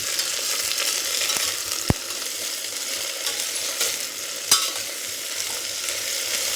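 Vegetables frying in a pan with onions for a kurma, a steady sizzle punctuated by a few sharp clinks of a spoon stirring against the metal.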